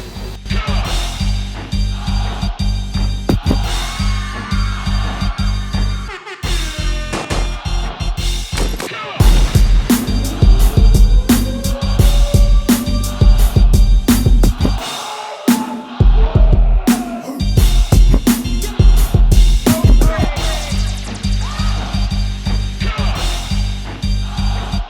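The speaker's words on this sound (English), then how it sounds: "we're going to go over to the sewing machine and we're going to stitch this" Sewing machine stitching a fabric face mask, loud close bursts of rapid mechanical clatter that start and stop repeatedly, broken by short pauses and handling noises.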